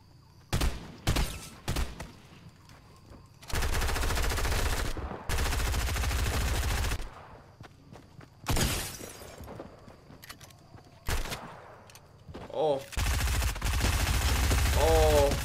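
Bursts of gunfire in a Fortnite match on Nintendo Switch ring out in loud, separate volleys with short gaps between them, mixed with shattering and breaking sounds, while voices chirp briefly near the end.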